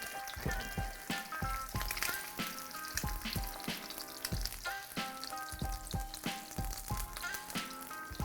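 Egg whites fry in oil in a pan for breakfast calzones, with oil spooned over them; a steady crackling sizzle runs throughout, broken by repeated sharp spattering pops at close range, with no talking.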